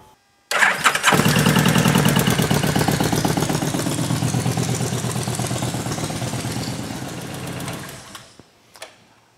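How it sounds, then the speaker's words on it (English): A 2015 Kawasaki Vulcan 1700 Vaquero motorcycle engine cranks briefly, catches and settles into a loud, steady idle close by, then shuts off near the end with no talking. "So let's get her started up."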